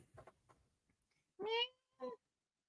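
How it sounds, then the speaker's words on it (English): A house cat gives two short meows in a quiet room, close by and moderately loud, after a few soft indistinct sounds. "The cat just wants my attention."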